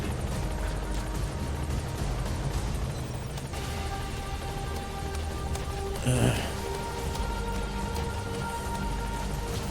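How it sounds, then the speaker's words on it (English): A steady helicopter rotor drone from the game Metal Gear Solid V: The Phantom Pain fills the scene, with a constant low hum and chop and a brief brighter burst partway through. "Support helicopter has arrived."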